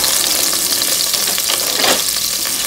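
Garlic marinara sauce simmers in a pot on the stovetop, giving a continuous close sizzle and bubbling with a brief scraping swell as it is stirred, no talk.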